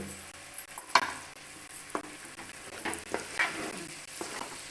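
Chicken frying in ghee in a pan for a ghee podi chicken fry, a steady soft sizzle with scraping stirs and occasional light clinks of a utensil against the pan.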